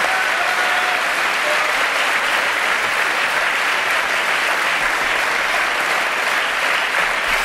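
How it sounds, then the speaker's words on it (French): Loud, sustained applause from a TV studio audience, dense steady clapping with no pauses throughout. "Des applaudissements de nos camarades ici présents."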